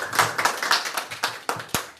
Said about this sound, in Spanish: Fuertes aplausos para ella